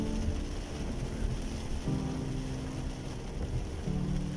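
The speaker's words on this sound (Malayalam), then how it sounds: "മക്കളെ ഇവിടെ നല്ല മഴയാണ് പെയ്യുന്നത്." Rain falls in Jeddah as a dense, steady hiss that continues through the whole stretch, with low rumbling underneath and no voices.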